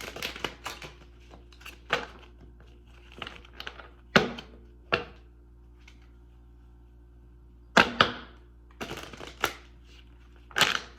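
Tarot cards being shuffled and drawn, heard as separate crisp riffles and slaps in short bursts with quiet gaps between them, close up, over a low steady hum and with no talking.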